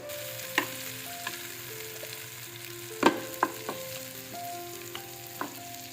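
Mussels sizzling in a pan in a home kitchen, a quiet steady fry punctuated by a few sharp clinks and scrapes of a utensil against the pan.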